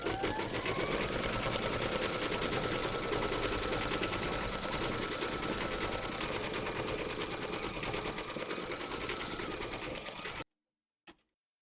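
An embroidery machine stitches a teddy bear's eyes in black thread, a steady close mechanical rattle of rapid needle strokes running without pause for about ten seconds before stopping, then one brief click.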